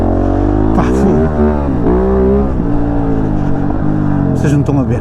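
A KOVE 450 Rally motorcycle engine on a test ride, rising and falling in pitch as it revs through the gears, loud and close throughout, with someone talking over it.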